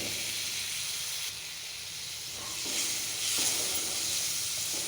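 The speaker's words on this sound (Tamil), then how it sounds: "பச்சை வாசம் போக 2 நிமிஷம் வதக்கலாம்" A pan sizzles and hisses steadily as a spiced mixture with a little water sautés for bread upma, with occasional scraping stirs, close and moderately loud, no talking.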